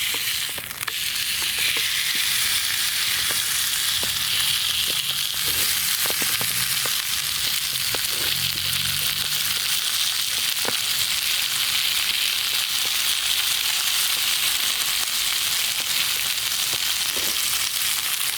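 A rib eye steak sizzles and fries steadily over a twig-fired camp stove outdoors, a continuous loud crackle with occasional sharper pops and a faint shift partway through as the meat is turned.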